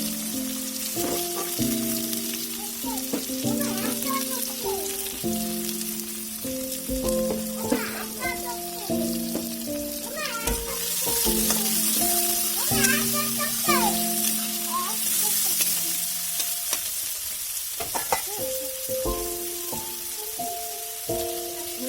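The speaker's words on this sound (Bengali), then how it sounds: "এবার আমরা দিয়ে দেবো পেঁয়াজটা, একটু লাল লাল করে দিতে হবে।" Onions sizzle steadily in a hot pan while being stirred, with scraping clatter recurring through the continuous frying hiss.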